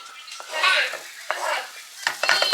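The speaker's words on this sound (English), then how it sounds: "I'm gonna cook this for a couple of minutes so the onions start to get translucent" Chopped onion cooking in oil in a pot, with bursts of stirring and scraping against the pot over a soft sizzle, loud and close, the clanks coming in uneven clusters.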